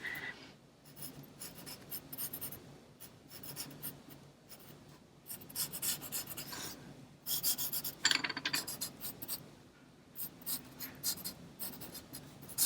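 Pen scratching and scribbling across a book page during a quick art project, a steady run of close, dry strokes with short pauses between bursts and no voices.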